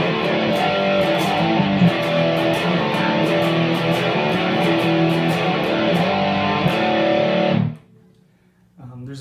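Distorted electric guitar hammers full palm-muted chords in a riff, a loud dense wall of sound that cuts off sharply near the end.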